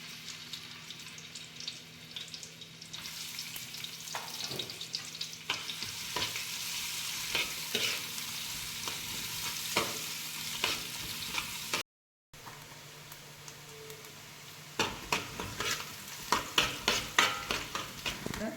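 Whole spices including cardamom sizzling in hot ghee, a constant close crackle broken by sharp pops and clinks, with a brief gap partway through and no talking.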